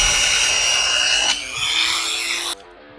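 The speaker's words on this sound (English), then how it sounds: "Now we're going to take our new belt sander from Woodstarter," A Woodstarter belt sander whirs loudly and steadily while smoothing the jigsaw-cut edges of wood, its tone shifting partway through before the motor cuts off.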